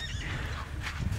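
A horse whinnies in a wet arena with an obstacle course, a rough, fairly loud neigh heard close by over a steady background rumble.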